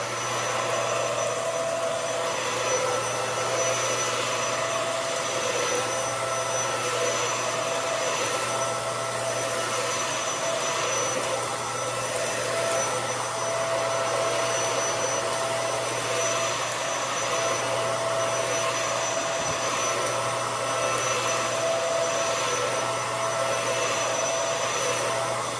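A Hoover Air Lift vacuum cleaner runs steadily with its roller brush not spinning, giving a loud, constant motor whine and airflow roar that holds without a break for the whole stretch.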